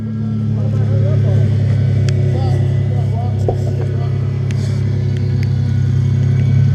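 A vehicle climbing up a waterfall holds a loud, continuous engine drone with the motor revving under strain throughout, up close, with some voices mixed in.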